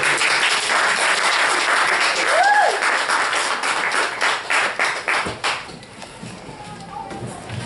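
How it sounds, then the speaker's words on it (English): An audience at a New York literary reading applauds, a lively burst of clapping that thins into a few individual claps toward the end, with a brief vocal whoop early on. "Let's give her a round of applause."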